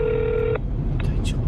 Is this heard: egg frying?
no